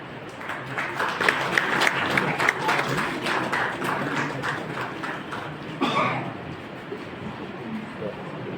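Guests at a retirement farewell ceremony for district court employees in Gazipur clap in sustained applause that fades to scattered claps and background murmur.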